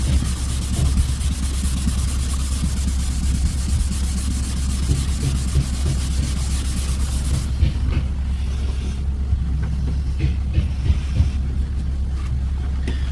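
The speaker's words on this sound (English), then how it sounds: "Trick to wet sand, you just keep the sandpaper wet so it doesn't get gummed up." Sandpaper scrubs back and forth in a steady, close rasp as a plastic car bumper is wet-sanded during a plastic-welding repair, with a constant low hum underneath.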